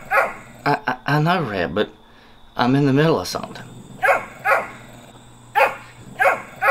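A dog barks repeatedly nearby in loud, sharp bursts and whining yelps while someone talks over it.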